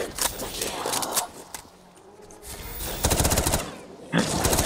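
Gunfire in Call of Duty Black Ops 3 zombies on a desert arena custom map comes in close rapid bursts separated by a quieter gap, with game noise underneath.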